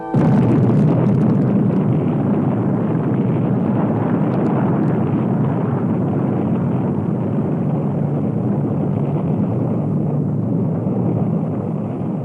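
A deep, sustained roar of a massive nuclear explosion rumbles continuously, heavy low-end booming that stays loud and steady without pause.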